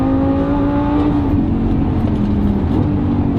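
A stage 1 tuned Lamborghini Gallardo LP560 supercar pulls hard with a loud, steady engine roar whose pitch holds and then dips slightly, close and continuous without a break.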